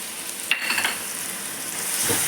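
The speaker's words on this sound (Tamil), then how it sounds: "இப்போது இஞ்சி பூண்டு விழுது ஆட் பண்ணிடலாம்." Ginger garlic paste hits onions frying for chicken biryani, sending up a sudden crackling sizzle burst that settles into a steady hiss, with a soft stir near the end.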